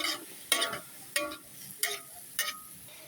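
Cabbage stir-fried in a pan with oyster sauce, fish sauce and MSG: four sharp scraping, clattering strokes of a spatula about every 0.6 seconds over a faint continuous sizzle, close and fairly loud, no talking.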